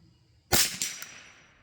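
A single sharp crack from a Savage Model 62 .22 LR rifle, close and alone, followed by a short trailing echo with a couple of faint reflections as it fades.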